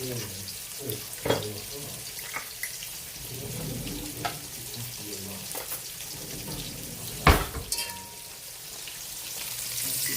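Onions frying in garlic-infused oil for kale, a soft steady sizzle with occasional clinks and stirring knocks, one sharper clatter near the end, with faint background voices.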